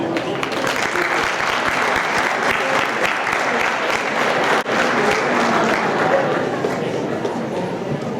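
Audience applauding the coaches at a school fall sports awards night, steady loud clapping that continues unbroken throughout, with a faint murmur of voices underneath.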